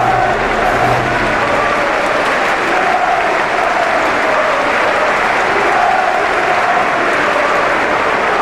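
A capacity stadium crowd applauds and cheers steadily in PES 21 football simulation before a Tottenham Hotspur versus Manchester United Premier League match, a dense continuous roar with no pauses.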